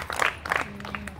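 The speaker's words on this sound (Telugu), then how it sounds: "చప్పట్లు." Applause from an audience at a Marriage Bureaus Joint Action Committee meeting in Hyderabad, a short burst of clapping that swells, dips briefly, then rises again.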